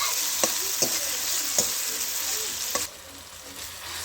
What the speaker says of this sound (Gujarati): ટમેટા પણ આપણે સડી જવા દઈશું